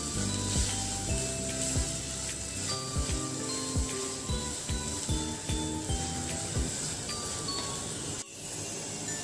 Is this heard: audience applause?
no